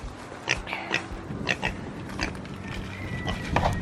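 Pigs grunt and oink in short, uneven bursts, several snorts close by over a low, rumbling pen background.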